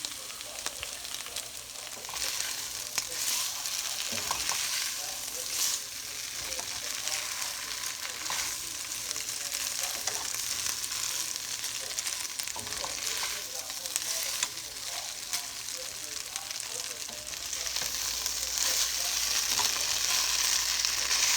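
Beef stir fry sizzles steadily and fairly loudly in a pan for a long stretch, with occasional scrapes and knocks as it is stirred and tossed; no talking is heard.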